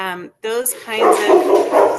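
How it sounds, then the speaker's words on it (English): A pet dog barks and yips close by in a quick burst, overlapping a woman's speech. "sorry, that's my dog."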